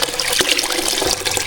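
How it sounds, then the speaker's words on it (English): Juice from cooked fruit poured through a strainer, a continuous close wet trickle and splash with a couple of brief drips, no talking. "I'm trying to look to the side and pour"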